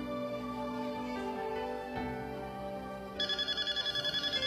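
A telephone rings in a Filipino TV comedy segment, a rapid, regular electronic ringing pattern that starts partway through and follows quieter background sounds.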